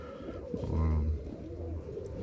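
A clean-legged racing pigeon gives a low, throaty coo, a short rolling phrase heard close and alone in a quiet loft.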